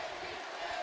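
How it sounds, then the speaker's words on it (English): Boxing arena crowd at a Jake Paul vs Deji fight chanting a fighter's name: a brief, dense swell of massed voices roaring together, steady and loud. "The crowd chant Deji."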